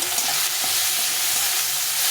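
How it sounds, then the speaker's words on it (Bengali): Steady, loud sizzling as large tomatoes fry in a pan, with occasional soft stirring scrapes and no speech. "এই টমেটোটা ভেজে নিচ্ছি"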